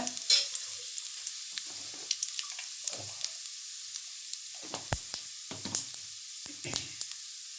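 Urad dal, dried red chillies and curry leaves sizzle in hot oil as a tempering for bitter gourd milagu kuzhambu, a steady crackling hiss broken by spoon scrapes and stirring clatters, close and moderately loud.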